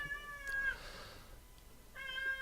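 A house cat meows twice, two drawn-out, fairly soft calls separated by a short pause, close to the listener in a quiet room.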